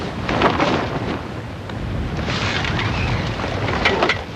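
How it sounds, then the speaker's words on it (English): Wind rising from the south during a 1981 record attempt in Australia, heard as loud, steady gusting rumble and microphone buffeting with no talk. "The breeze starts to spring up from the south"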